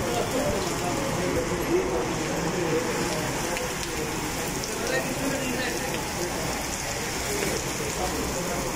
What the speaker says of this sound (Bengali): এখন একদম সেই লেভেলের বৃষ্টি হচ্ছে।